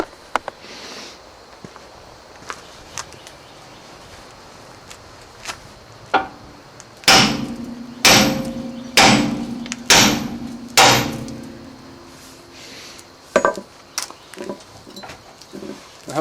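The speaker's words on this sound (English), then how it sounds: "I just basically used a sledgehammer and just give her hell" A sledgehammer strikes a suspension part on a 1995 Ford Crown Victoria during a front suspension rebuild, with a burst of about six loud, evenly spaced metallic whacks in the middle amid scattered lighter clanks and handling noises.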